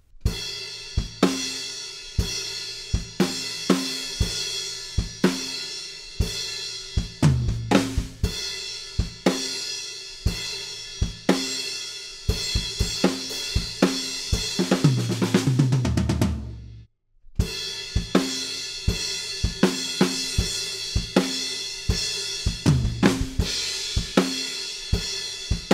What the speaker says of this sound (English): quarter notes up on the crash cymbal with a big heavy groove that sounds like this.